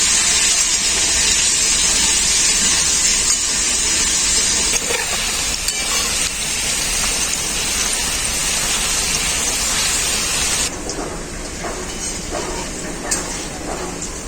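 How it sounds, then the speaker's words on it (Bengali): Potatoes frying in hot oil with salt and turmeric make a loud, dense, rain-like sizzle that runs steadily close up, easing slightly near the end, with no talking. "তো আলুগুলো এখন আমি ভেজে নেব লবণ হলুদ গুঁড়ো"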